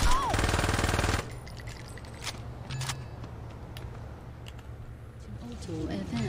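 Enemy gunfire in Saints Row 2: a loud, dense burst of rapid automatic shots for about a second, followed by scattered fainter shots and clatter under talking voices.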